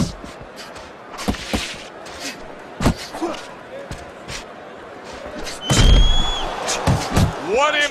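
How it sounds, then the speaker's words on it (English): Boxing punches landing in the video game Fight Night Champion, several sharp thudding impacts spaced irregularly with a heavy flurry near the end, under excited commentary and crowd noise. "What impact from that uppercut by Iceman"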